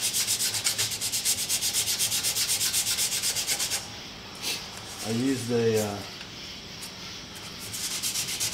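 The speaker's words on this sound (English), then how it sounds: "just a cordless drill with these 5-inch sanding discs" Cordless drill fitted with a 5-inch self-adhesive sanding disc grinding down a steel hatchet head, a steady loud rasping whir for several seconds that cuts out, then someone speaks briefly before the sanding resumes.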